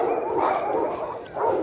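Stray dogs at a mountain feeding spot, one of some two hundred fed rice, vegetables and roast duck, give two short barks or yelps, one early and one near the end, over a dull background.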